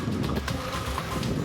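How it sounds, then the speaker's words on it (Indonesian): Strong wind with rain during a whirlwind storm in a rural district of Lampung, Indonesia, a dense, steady roar of gusts and rainfall buffeting the microphone without a break. "Warga merekam saat hujan turut disertai angin kencang di Kecamatan Wai, Jepara, Lampung Timur, Lampung."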